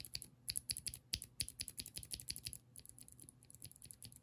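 Rapid, crisp clicking from lubed Cherry MX Blue keyboard switches being pressed, close and dry, a dense burst of sharp keystrokes that thins to lighter, softer presses.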